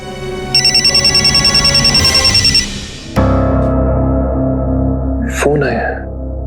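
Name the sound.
telephone ringing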